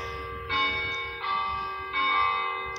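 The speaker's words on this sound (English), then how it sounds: "Just ignore the bells." Three successive bell strikes ring out about every 0.7 seconds, each loud and near, with tones sustaining and overlapping between hits and no voices.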